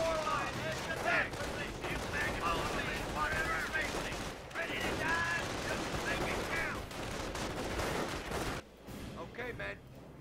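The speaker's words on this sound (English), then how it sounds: "Taking rifle fire." Battlefield rifle fire and gunshots crackle dense and loud throughout, mixed with shouted voices and commotion, with a brief drop near the end.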